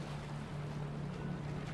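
A boat in the horror game Reanimal moves across water with a low, steady engine drone under washing waves and wind noise. The sound is continuous and fairly faint, with no talking.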